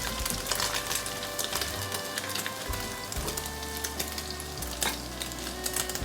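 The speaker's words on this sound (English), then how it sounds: "Fry the chopped garlic until nice and fragrant." Chopped garlic frying in a pan for egg fried rice, a steady close sizzle with crackling pops and occasional stirring scrapes, no voices.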